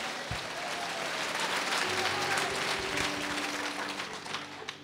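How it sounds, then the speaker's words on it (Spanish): Sustained applause fills a church during a Christmas service, many hands clapping together steadily for several seconds, with faint voices underneath. "Fuerte aplausos"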